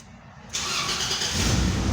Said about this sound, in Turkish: Frene basıp butona bastığımızda aracımız çalışmaktadır.